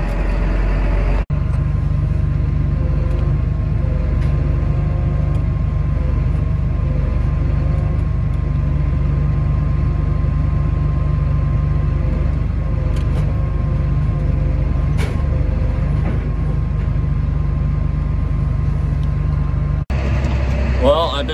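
A tractor pulling a rock picker drives around a rocky field during spring field preparation. Its engine keeps up a steady, low, continuous rumble close by, with a few faint knocks over the top.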